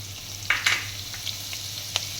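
Chopped garlic hits hot oil with asafoetida, giving a quiet sizzle with a few sharp crackles and spits over a low steady hum, brief and with no talk.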